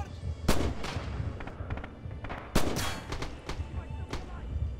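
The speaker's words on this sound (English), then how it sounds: "Where is this guy sniping with the fucking MP44?" MP44 rifle fire rings out in Red Orchestra 2 on a winter battlefield: loud sharp cracks at close range, two heavy shots among scattered distant pops, with battle ambience between them.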